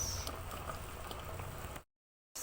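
A pot of pork broth bubbles and simmers steadily with a soft, wet gurgling patter, close and quiet, before cutting to brief silence.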